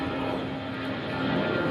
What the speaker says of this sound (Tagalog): Ayan po, may aeroplano.